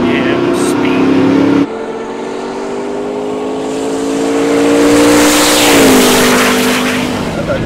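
A Hennessey Mammoth 6x6 RAM TRX with a Hellephant engine drives fast, its loud, close engine holding a steady high drone that shifts pitch after an abrupt cut early on, with rushing wind rising toward the end.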